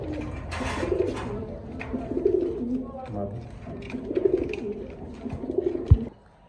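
A pair of Jharna satin pigeons coo over and over in steady low phrases, close by, with background noise and some voice sounds underneath.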